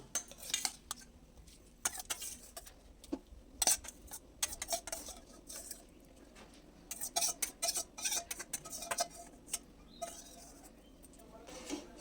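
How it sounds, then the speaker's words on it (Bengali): Washed rice tumbles into a pot of boiled masoor dal for khichuri, making scattered light clinks and rattles with irregular small knocks, close and fairly quiet. "এবার চালটা এখন আমি দিয়ে দিচ্ছি।"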